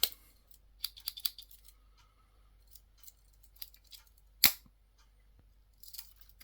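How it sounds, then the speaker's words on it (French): A few quiet, crisp metallic snips and clicks close by from the scissors of a Victorinox pocket multitool, followed by one sharper snap midway, in otherwise quiet surroundings. "Les ciseaux."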